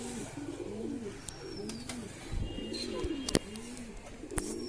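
An all-black pigeon coos in a repeated rolling rhythm, close and clear, with a few sharp clicks and light knocks between the calls.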